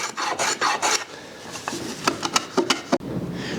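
A rasp files a small chamfer onto the corners of a wooden joint for a shoe rack, giving a run of close, rough scraping strokes that come in bursts with short pauses between them.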